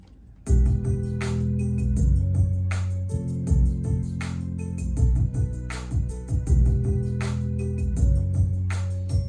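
A slow, heavy hip hop beat with deep bass, steady spaced drum hits and a layered melodic loop, playing continuously and fairly loud.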